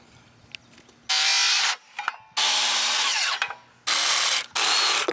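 Power saw cutting wooden framing pieces for a farm stand, three loud sustained cuts of about a second each, separated by short quiet gaps with faint handling knocks.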